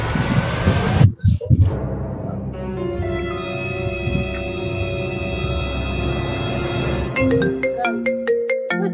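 A mobile phone ringtone plays a bright, repeating melody of steady tones, ending in a run of quick beeps, loud and close after brief sounds at the start, during a Swahili comedy skit.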